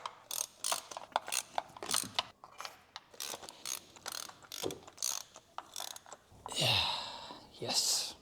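A wrench and ratchet work on the spark plugs of a VW Phaeton W12 in a run of clicking, ratcheting strokes, followed by a couple of louder grinding creaks as a tight plug breaks loose, all close up.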